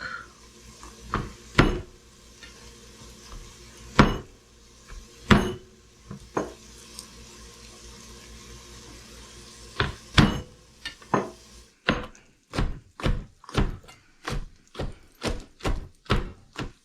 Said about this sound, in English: we're going to start coarsely chopping some garlic